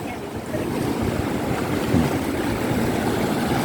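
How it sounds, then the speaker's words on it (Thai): Sea waves wash in at Mae Ramphueng beach in Rayong, a steady low rushing surge of surf with wind buffeting the microphone, fairly close and continuous. "นี่ก็จะเห็นน้ำใสๆ น้ำใส ๆที่ทะเลตีเข้ามาพัดเข้ามา"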